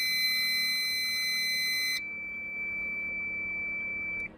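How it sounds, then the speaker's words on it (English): A newly installed oil temperature gauge in a Toyota MR2 time attack car gives a loud, steady, high-pitched electronic beep that holds for about two seconds, then drops to a thinner single tone that continues before cutting off. "Loud beep, gonna have to get used to that"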